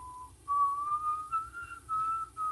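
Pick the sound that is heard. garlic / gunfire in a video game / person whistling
person whistling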